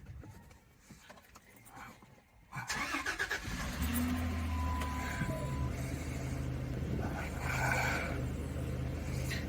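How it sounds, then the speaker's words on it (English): A RAM 1500 with a 3.7L V6 cranks briefly and fires up after a camshaft position sensor replacement, then settles into a steady, close idle with a faint whine running over the engine hum. "Please start engine."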